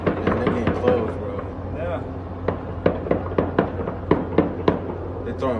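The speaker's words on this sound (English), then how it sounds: "They're throwing flashbangs and all kinds of shit out there." Flashbang stun grenades burst amid a crowd during the chaos at Kabul Airport as the Taliban took over, giving a run of sharp, loud bangs at irregular intervals over constant crowd noise and nearby voices.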